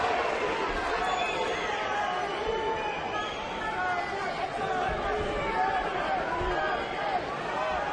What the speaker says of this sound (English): What a lively crowd here in the Alamo City.